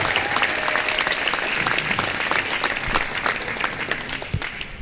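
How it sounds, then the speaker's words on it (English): Crowd applause for the teams after a high school volleyball Region 6 tournament championship, a dense, sustained clapping from a gym audience, steady and loud throughout. "Let's give all our teams a big round of applause."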